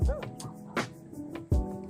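Dogs bark in short, sharp bursts along a flood-control riprap in Calumpit, Bulacan, a few separate yaps close by with quiet gaps between them.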